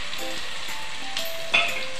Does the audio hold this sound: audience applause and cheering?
no